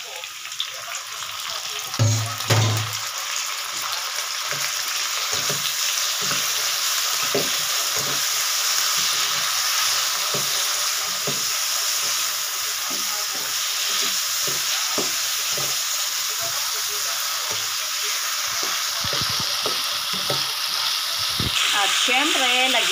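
Chopped tomatoes sauté in a hot pan for ginisang munggo with ampalaya, giving a steady loud sizzle with intermittent stirring scrapes and clicks throughout.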